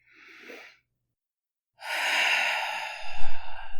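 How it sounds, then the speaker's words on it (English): A person breathes slowly and deliberately at the start of a yoga practice: a soft, short breath followed by a pause, then a long, loud, close exhale like a sigh, ending with a low rumble of air. "Let's begin with the breath."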